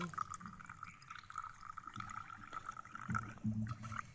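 Water poured steadily into a pot while coconuts are roasted for the Aadi festival, a continuous liquid trickle and gurgle at moderate distance with faint background noise.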